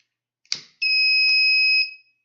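A sharp click, then a loud, piercing electronic tone from an Arduino-built fire alarm sounds steadily for about a second before cutting off.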